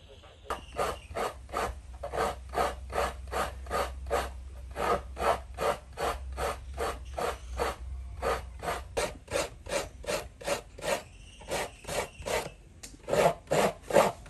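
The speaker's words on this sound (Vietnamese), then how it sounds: "Sau khi nạo dừa xong, này một trái rưỡi dừa" Coconut being grated by hand, heard as a steady run of rhythmic, raspy scraping strokes, close and fairly quiet, with brief pauses between sets of strokes.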